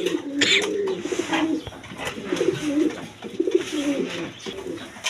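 A pair of big, light-coloured racer pigeons coos up close, throaty rolling phrases repeating in several bursts, with a few sharp clicks and a brief high chirp early on.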